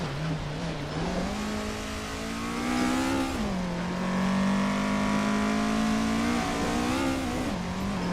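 Race car engines scream and rise in pitch during an overtake in a racing video game, a steady high whine that shifts through gears, loud and close with no talk.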